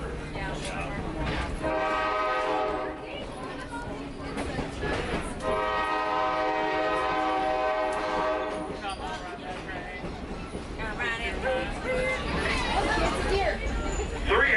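A train rumbling along with a long, loud horn blast sounding twice over the steady roar of the cars.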